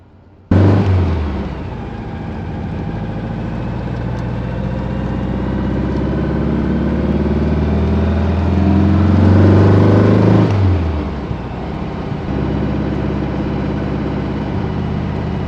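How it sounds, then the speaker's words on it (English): A 1955 Volkswagen Beetle's air-cooled engine lugs in third gear on a road drive, a loud steady low drone that swells and strains before easing off and settling into a lower hum. "I'm right on the edge of lugging it right now in third gear, but we're hanging tough"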